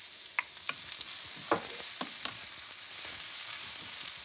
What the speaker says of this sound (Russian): Поджарим все вместе